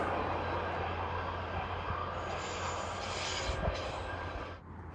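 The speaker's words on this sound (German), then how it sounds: "Der Zug von Mailand rollt gerade über die Kellerbachbrücke." A train from Milan rumbles steadily across the Kellerbach bridge on the Gotthard line, a continuous loud rolling roar with low wheel noise that fades slightly at the end.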